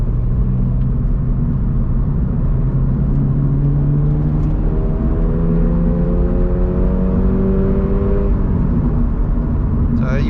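A 2022 Subaru BRZ engine pulls up a steep hill, its revs climbing steadily in a loud continuous drone with rising harmonic tones and road rumble heard from inside the cabin.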